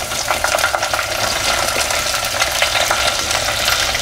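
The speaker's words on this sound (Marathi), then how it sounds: "अपना कांदा छानस परतून घ्यायचा आहे थोडंस लालसर होईपर्यंत" Finely chopped onion sizzles and fries in a pan with green chillies, a steady dense crackle with faint stirring scrapes throughout.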